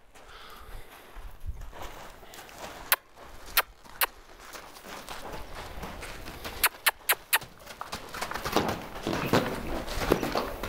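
A 5-year-old Mustang mare walking loose after being unsaddled, hooves clip-clopping in an uneven rhythm with a few sharp, close knocks amid soft ground noise.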